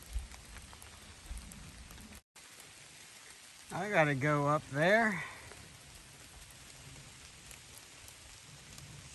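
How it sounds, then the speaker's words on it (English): Steady rain falls along the Appalachian Trail near Lake Canopus in New York, a soft even patter that runs through the whole stretch while someone speaks briefly over it. "We're finally getting some rain in New York"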